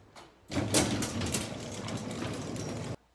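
A garage door closing at a house: after a quiet start it rolls down with a loud, steady mechanical rumble and rattle for a couple of seconds, then stops abruptly.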